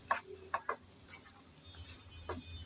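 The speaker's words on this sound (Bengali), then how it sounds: "নেড়ে চেড়ে মিশিয়ে নিলাম।" Spices being stirred with ridge gourd in a pan, giving a few soft scraping and clinking stirs over a faint, quiet sizzle.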